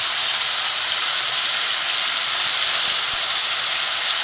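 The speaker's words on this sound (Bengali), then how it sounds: "মাংসটা মোটামুটি ভাজা হয়ে গেছে" Chicken meat frying in a pan gives a steady, loud, even hiss and sizzle that runs unbroken throughout, with no voices.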